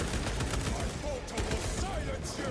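Bolter gunfire in Warhammer 40K Space Marine 2 comes as rapid, dense bursts of loud shots in quick succession, a continuous battle barrage with voices mixed into the din.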